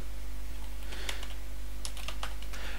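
Scattered keystrokes on a computer keyboard while code is typed in Unity: a few isolated taps, then a quicker cluster of clicks near the end, close and fairly quiet over a steady low hum.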